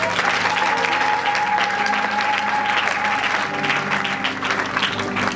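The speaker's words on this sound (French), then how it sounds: "Acclamons pour Jésus-Christ." An evangelical youth gathering's congregation claps and cheers to acclaim Jesus Christ, a full, steady wave of applause filling the hall, loud and sustained throughout.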